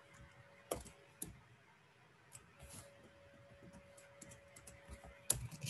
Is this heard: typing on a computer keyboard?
yes